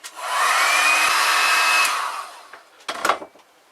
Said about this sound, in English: So we'll apply that, make some more noise